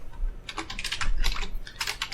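Typing on a computer keyboard during a Linux keyboard-shortcut lesson, rapid irregular clicks in close bursts, steady and moderately loud with no talk.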